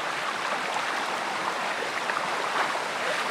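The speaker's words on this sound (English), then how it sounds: "The water's really running quite fast here." Fast-running stream water at a ford while wading through it in Hiking Simulator, a steady broad rushing wash, close and even throughout with no voices.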